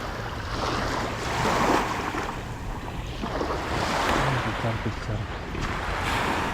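Sea waves wash and surge close by in Singapore, with steady wind rumbling over the microphone and a faint voice in the background.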